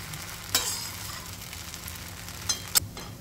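Sabudana khichdi with peanuts being stirred in a pan: a low steady sizzle, broken by a few sharp scraping clinks of the spoon against the pan. No one speaks.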